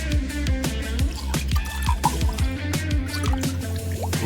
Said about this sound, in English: Ooh, things are really starting to bubble.